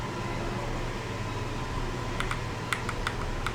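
Computer keyboard typing during a game session, a quick cluster of crisp, close key clicks over a steady fan-like hum, with no one speaking.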